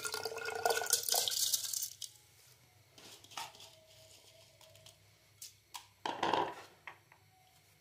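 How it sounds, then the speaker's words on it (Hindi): A splashy pour of soaked rice and water into a blender jar, followed by a few scattered drips, knocks and clinks. "एक लेंगे ब्लेंडर और इसमें ये भीगे हुए चावल डाल देंगे पानी समेत।"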